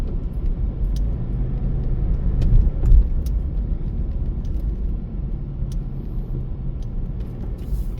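A car drives along a city street in Honolulu and swings through a left turn, its steady low road rumble and engine hum continuing throughout with a brief swell partway through.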